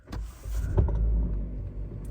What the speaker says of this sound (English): I'm gonna start up the engine